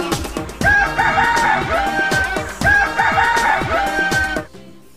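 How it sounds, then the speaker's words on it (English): A rooster crows loudly twice in close succession, each long call rising and holding before trailing off, with hen clucking mixed in beneath, all near and clear with no talk. "H for hen."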